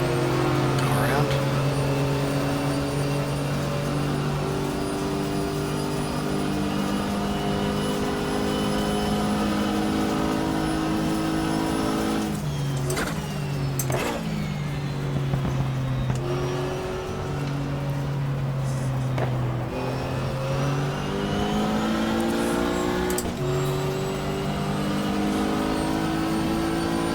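Porsche race cars lapping Daytona in the GTR2 racing game, a loud continuous engine drone with rising and falling revs through gear changes and several sharp dips mid-run, with a voice talking over it.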